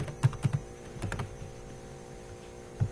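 Typing on a computer keyboard while programming in Scala, a few close key taps in small clusters over a low electrical hum, with a final stroke after a pause.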